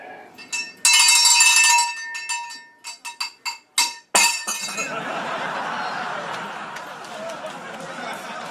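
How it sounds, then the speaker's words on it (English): A small bell used in a magic trick rings brightly, then gives a run of quick metallic clinks and jangles in an uneven rhythm, close and loud, before fading into softer rustling and room noise. "I had the bell behind here."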